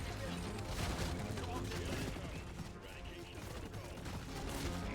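Rapid automatic gunfire from an Engineer's sentry gun in Deep Rock Galactic, dense and continuous at close range, layered with game combat noise and a voice speaking over it throughout.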